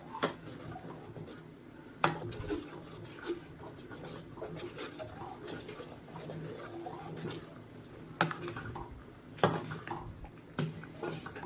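Ragi halwa stirred in a pan over a medium flame, with quiet scraping and occasional sharp clinks of a spoon against metal, soft and fairly close.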